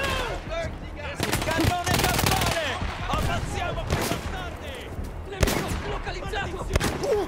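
Repeated gunfire from Battlefield 1 crackles through a busy battle, with sharp bursts and shots near and far, heavy artillery-like thumps, and a voice talking intermittently over the din.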